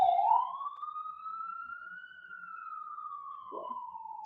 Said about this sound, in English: I'll wait for the siren to go by